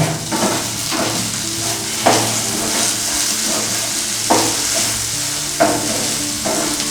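Okra fry (bendi fry), cooked without onion or garlic, sizzles steadily in a pan while a spoon stirs it in periodic scraping strokes, close and loud with no talking.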